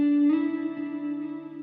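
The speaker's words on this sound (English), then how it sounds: "just put through my reel-to-reel tape machine just to get some more grit" A sustained synth chord run through a reel-to-reel tape machine for added grit and body, heard alone: a steady, fairly loud droning tone with a soft swell early on, holding evenly throughout.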